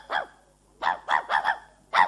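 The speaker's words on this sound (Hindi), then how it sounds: "अरे ये कुत्ता" A dog barks repeatedly in a household scene, a loud, close series of about five sharp barks with a pause after the first, and no talking over them.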